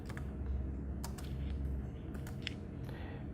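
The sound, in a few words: typing on a computer keyboard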